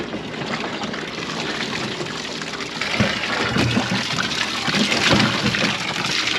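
Water gushes and splashes over freshly picked cucumbers being washed on a farm, a steady rushing stream that grows louder and busier partway through.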